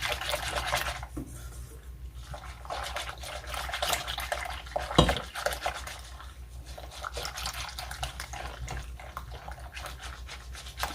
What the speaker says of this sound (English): You just want to whisk it, make sure all that cornstarch is dissolved good